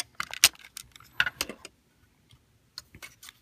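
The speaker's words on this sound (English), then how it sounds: "just kind of fold his legs up and collapse them" Plastic clicks and clatters from folding up the legs of a ToyWorld TW-04 Infinitor transforming robot figure, a burst of close, sharp rattling taps in the first second and a half, a pause, then a few more clicks near the end.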